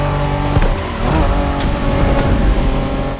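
Honda NSX sports car engine from the 1990s driven in The Crew Motorfest video game, loud and close as it revs and pulls hard under acceleration, with a faint tire squeal, no voices.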